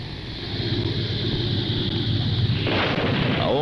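Nuclear explosion sound effect in a reconstruction of a blast over Tokyo Tower, a deep continuous roaring rumble that swells and turns rougher and more turbulent toward the end.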